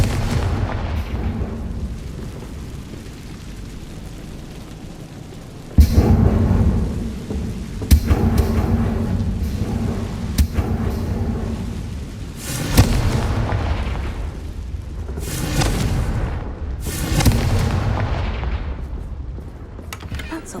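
Repeated Confringo blasting spell explosions in the video game Hogwarts Legacy, several heavy booming blasts at irregular intervals with rumbling tails, sounding like thunder or artillery, with game sounds in between.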